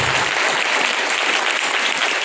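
Loud, dense applause from a gathered congregation, many hands clapping together in a steady unbroken wash, close and full for the whole short span with no voices over it.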